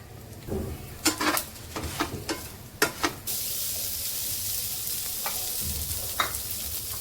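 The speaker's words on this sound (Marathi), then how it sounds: "सुरुवातीला आपल्याला खडे मसाले भाजून घ्यायचे आहे। तेल टाकून घेऊया थोडंसं।" Whole spices roast in oil in a pan, with a spoon knocking and scraping in quick bursts at first, then a steady loud sizzle with a few more clinks, heard up close and without speech.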